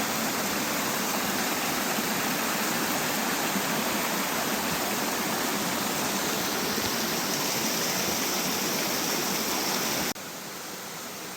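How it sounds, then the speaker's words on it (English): Strong creek water rushing steadily at Obi Obi Creek below Baroon Pocket, a loud continuous broadband roar close by with no talk. "I've never seen this creek flow as well as it is now"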